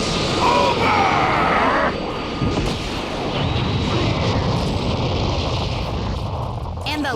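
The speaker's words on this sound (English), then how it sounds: "I'll send you to the next world with this Ultra Big Bang Kamehameha!" A giant energy-beam finishing blast in a Dragon Ball Sparking Zero fight, Gogeta's Ultra Big Bang Kamehameha, lands as a loud, sustained roaring explosion that rumbles continuously with crackling bursts, while a voice talks over it.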